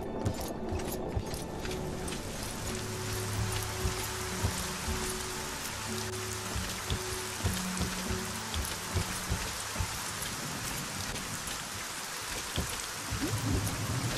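Rain falling in the fantasy game Arcania: Gothic 4, a dense continuous patter of drops on surfaces with scattered sharper splashes, steady and moderately loud with no talk.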